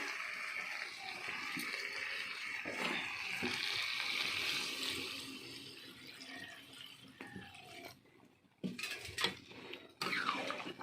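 Water poured into a pot of country chicken curry on the stove, a steady running splash lasting several seconds before it stops, followed by a few scattered kitchen clinks.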